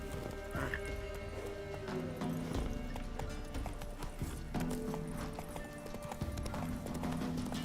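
A horse gallops in the video game The Witcher 3: Wild Hunt, with steady, close clip-clopping hoofbeats running throughout and a brief whinny near the start.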